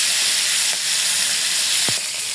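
Hilsa fish pieces frying lightly in hot oil, giving a constant bright sizzle and hiss with one brief sharp crackle near the end, close and alone without talk.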